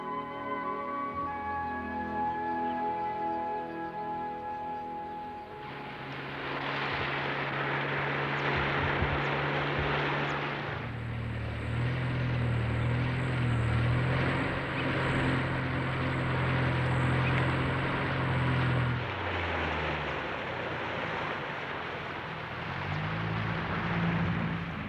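A propeller aircraft flies over the Nile downstream from Lake Victoria, its engine drone swelling louder and then steady for several seconds before easing off, with a quieter background at the start.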